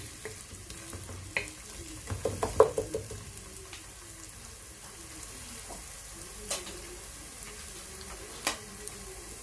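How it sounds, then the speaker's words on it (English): Tomatoes and capsicum fry in a pan for pilau, giving a soft continuous sizzle with stirring clatters clustered early and a few sharp utensil taps later, close and moderately quiet. "Now I'm going to add in my tomatoes and the capsicum."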